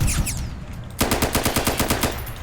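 Automatic gunfire in the Roblox game War Tycoon: after a brief lead-in, rapid, evenly spaced shots rattle out in a loud, sustained burst, close and unaccompanied by talk.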